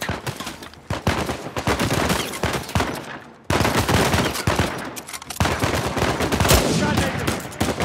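Heavy gunfire in Uncharted 4 rattles in rapid automatic bursts and loud single shots, near and continuous, with a brief cut to silence partway through.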